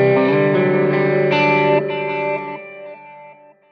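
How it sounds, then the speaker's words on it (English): Guitar run through a Line 6 Helix delay with its high cut set at 3K, thick distorted chords with darker, rolled-off repeats fading in stages to a quiet tail, played alone without talk. "Here's the high cut set at 3K."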